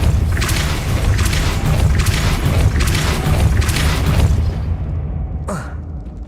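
A Depulso spell is cast in the Hogwarts Legacy video game, a loud rumbling magical burst with rhythmic booming surges, then a fading tail and a short sharp swoosh near the end.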